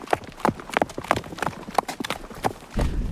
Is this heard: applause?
no